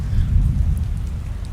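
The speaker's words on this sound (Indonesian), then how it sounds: "Iya kan hujan." Rain falls in a steady low rumble, a short continuous wash with no voices.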